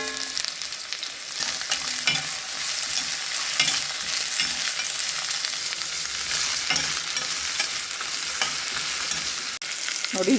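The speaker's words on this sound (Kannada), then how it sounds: "ನಾನು ಇವಾಗ ಈರುಳ್ಳಿನ ಬೆಳ್ಳುಳ್ಳಿನ ನೀಟಾಗಿ ಫ್ರೈ ಮಾಡ್ಕೊತೀನಿ" Onion and garlic frying in oil in a hot pan, a continuous close sizzle with scattered scrapes and taps of stirring throughout.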